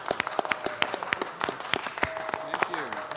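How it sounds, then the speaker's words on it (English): An audience at a city council meeting gives a scattered round of applause, with individual claps audible and voices talking over it. "let's give them one more round of applause"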